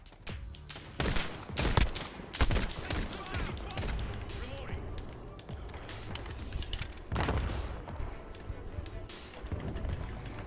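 Repeated gunfire from the Modern Warfare alpha shooter game, sharp close shots and bursts scattered unevenly over ten seconds, with rumbling booms and a busy battlefield background between them.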